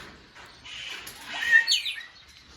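Amazon parrots in an aviary give a short, moderately loud burst of chirping calls that swells and fades within a couple of seconds.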